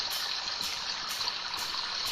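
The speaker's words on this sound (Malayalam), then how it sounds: "വെള്ളത്തിൻ്റെ ഒച്ച ഇപ്പോഴും നോക്കാം." Running water in the Evil Nun horror video game, a steady hissing stream that flows continuously at moderate volume with no talk over it.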